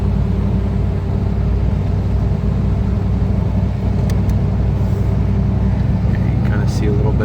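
Inside a 1984 Buick Regal cruising at about 1800 RPM, a steady low engine and road rumble fills the cabin throughout, with no change in pace.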